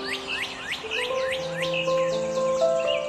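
A cardinal sings a clear, repeated series of rising whistled phrases in steady rhythm, with other birds faintly chirping behind it and a few steady tones running under the song.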